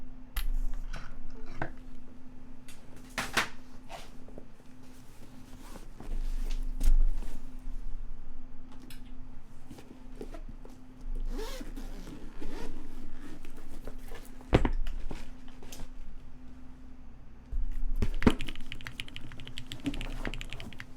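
Fingers type on a Keycult No.1 Rev.1 mechanical keyboard in dark navy and silver, with GMK keycaps and an aluminum plate. Close, crisp keystrokes come in irregular bursts and sharp clacks over a steady low hum.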